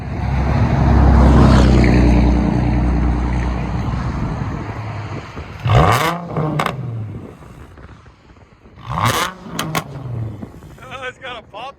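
A 2008 Infiniti G35x with a 3.5L V6 and straight-pipe dual exhaust roars loudly up close, then barks through two sharp rev blips with popping, wind buffeting the microphone between them.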